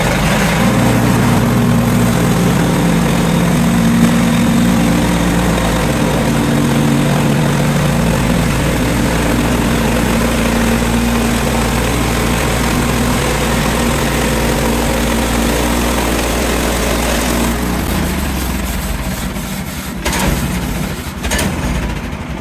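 A tractor engine runs steadily at a constant drone, loud and close, while lumber is milled from a log on a sloped site; the hum holds for about twenty seconds before tapering off, with no talking.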